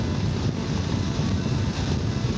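Steady, loud wind roar buffets a rider's head at speed on a Voge DS900X motorcycle, a dense continuous rush with no pauses and no talking.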